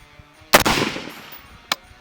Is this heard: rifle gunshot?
yes